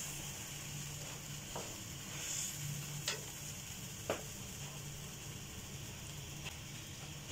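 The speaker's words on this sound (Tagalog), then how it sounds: "At hayaan kumulo." Coconut milk laing bubbling in a pot, a quiet steady simmer of soft popping and fizzing, with a few sharper ticks and clicks standing out now and then.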